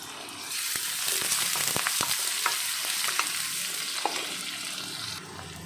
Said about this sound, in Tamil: இப்படி எண்ணெயில் வதக்கி போடும்போது அந்த முள்ளங்கியினுடைய டேஸ்ட் கொஞ்சம் நல்லாயிருக்கும்